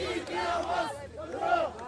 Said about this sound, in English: There are still people out in the streets. They are cheering.